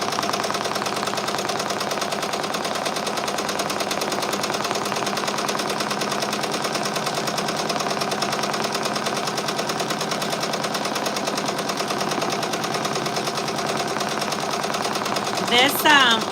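An embroidery machine stitches a design onto Luxe nylon fabric, its needle hammering in a fast, steady, even rhythm at close range, with a brief higher whir near the end.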